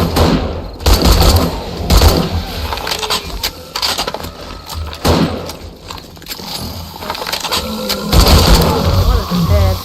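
Gunfire in the zombie survival game 7 Days To Die during co-op base building: repeated sharp shots and bursts scattered through the stretch, mixed with game noise and a player's voice talking.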